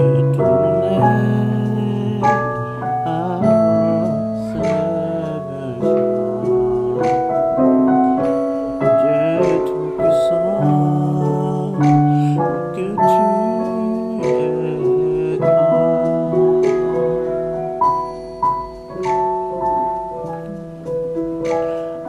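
Gospel piano chord transition played solo, layered chords shifting through varied voicings with melodic fills, loud and close throughout without speech.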